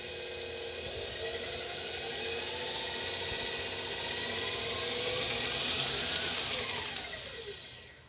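An electric stand mixer with a paddle beating coffee cake batter on high speed, a steady loud whirring hiss that holds for several seconds and then winds down at the end, with no voices.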